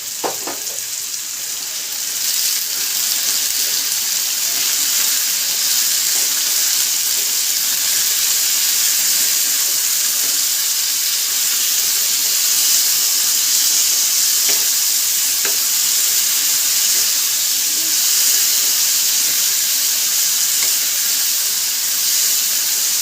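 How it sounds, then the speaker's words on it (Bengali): Potatoes fry with green chillies and salt in a pan over high flame, a steady close sizzle with occasional stirring scrapes running throughout, no voices. "দিয়ে 2-3 মিনিট হাই ফ্লেমেই একটু আলুগুলোকে ভাজা ভাজা মতো করব।"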